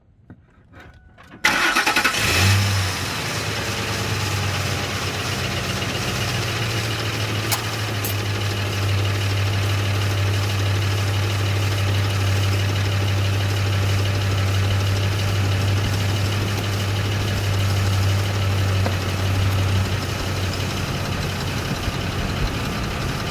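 Ford F-150 pickup cranking briefly, catching, and then settling into a long, steady idle, near and constant for about twenty seconds, with no talk.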